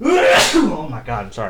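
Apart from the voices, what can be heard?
sneeze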